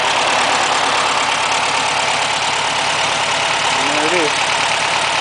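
Volkswagen Beetle engine with freshly adjusted valves, idling loudly and steadily close by with a constant rough drone, and someone speaks briefly over it.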